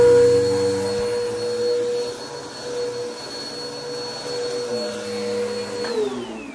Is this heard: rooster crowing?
no